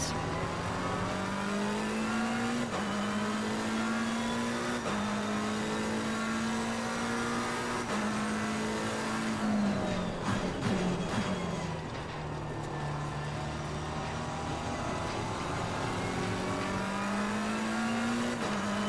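Race car engine in a sim racing video game, a loud continuous drone that climbs in pitch through repeated upshifts, dips briefly mid-way with a scrape of tire noise, then builds again.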